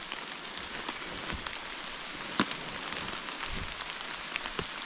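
Rain falling in a Ukrainian forest in May, a soft continuous patter of drops on leaves and ground with scattered sharper close drips, fairly quiet and steady, no talking.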